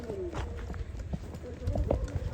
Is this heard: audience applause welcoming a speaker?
no